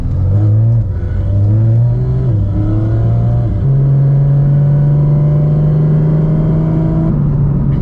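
A Porsche GT4 RS engine revs and pulls away on the Kaunertal Glacier Road, its steady loud rumble rising in pitch through several gear changes, close by.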